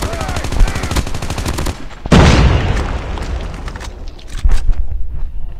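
Rapid continuous gunfire from a Call of Duty Mobile match, dense bursts of shots followed by a loud boom and further scattered firing, close and loud with no talk.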